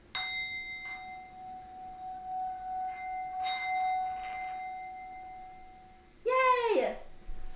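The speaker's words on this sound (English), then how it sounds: "I'm gonna start with our special thing, the bell thing." A small bell rung a few times in a home kitchen, clear ringing tones sustaining and fading, with faint voices and a child's excited cheer at the end.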